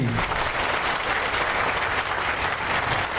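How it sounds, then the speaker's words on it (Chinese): Sustained applause from an audience at a naval submarine construction groundbreaking ceremony, loud and steady throughout with dense clapping and no speech over it. "我们大家一起掌声鼓励"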